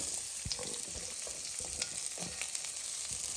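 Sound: diced potatoes frying in oil with spices

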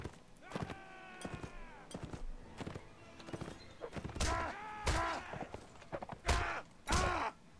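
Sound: horse hooves in Mount & Blade video game

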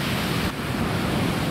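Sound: sea waves

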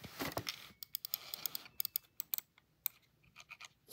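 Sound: typing sound test on Womier WK61 keyboard

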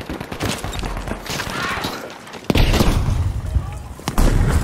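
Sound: grenade explosion and gunfire in Battlefield V video game

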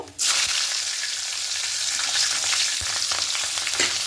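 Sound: nigella seeds and green chillies sizzling in hot oil

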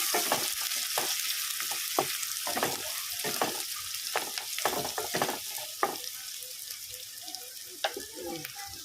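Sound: onions frying in hot oil

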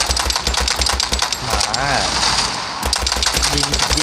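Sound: gunfire from a World War video game

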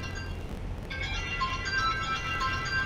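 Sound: phone ringing

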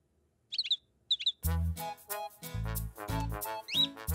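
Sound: birds chirping in a cartoon

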